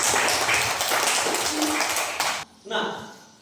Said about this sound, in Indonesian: Baik, terima kasih, tepuk tangan.